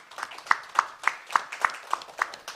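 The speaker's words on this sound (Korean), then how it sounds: "모두 큰 박수로 맞아주시기 바랍니다." A handful of people clap at a forum, sounding as sparse, distinct hand claps in a loose, steady rhythm, roughly three per second, close by and fairly quiet in a hushed room.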